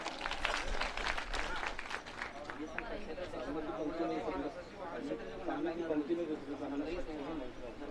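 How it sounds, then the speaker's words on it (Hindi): An audience at a village community gathering in India breaks into sustained, hearty applause for the village heads, with crowd chatter mixed in and fading toward the end. "एक बार इनके सम्मान में जोरदार तालियां।"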